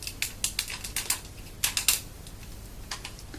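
Hard plastic clicks and snaps as parts of a Power Rangers Jungle Fury Wolf Pride Megazord toy are folded, the tail, head and legs tucked in: a quick run of sharp, close clicks, a short pause, then a few more.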